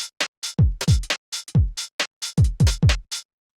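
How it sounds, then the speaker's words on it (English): A sparse, syncopated UK garage drum groove with punchy kicks, snappy snares and crisp hats, playing alone at a steady swinging tempo. "So what we've got here is just like a pretty simple UK garage kind of pattern."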